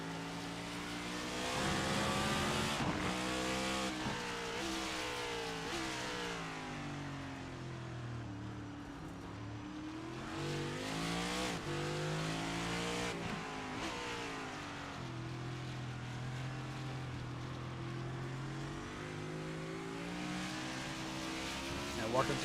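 Race car engines roar through the final corner at Circuit of the Americas in a sim racing game, rising and falling as cars accelerate and shift, with a commentator talking over the steady engine noise.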